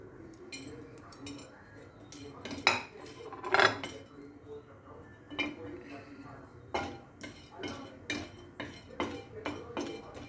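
Cloves dry-roasting in a pan for homemade masala, with quiet rattling and repeated light metallic clinks and taps of a spoon against the pan, some louder knocks, and someone speaking.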